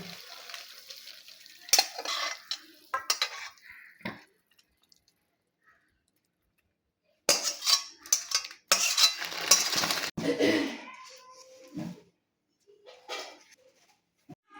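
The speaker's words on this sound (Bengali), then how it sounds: "মাছটাকে এবার আমি নামিয়ে নিচ্ছি।" Cooked fish lifted out of a pan onto a plate in a home kitchen, giving bursts of metal-on-metal scraping and clattering utensils, then a quiet pause before another run of clinks and scrapes.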